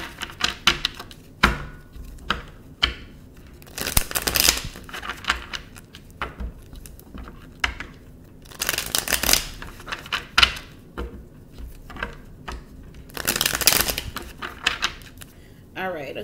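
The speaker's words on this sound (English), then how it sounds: "Let's give it a couple more shuffles." Tarot cards are shuffled in repeated bursts of crisp riffling and flicking, close by, separated by short pauses with light tapping.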